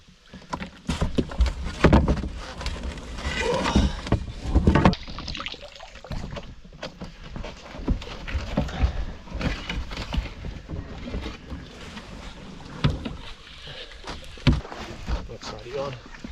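A kayak paddles down a whitewater river in Australia, with repeated paddle strokes splashing and rushing water sounding close and fairly loud, while a person speaks intermittently over the churning.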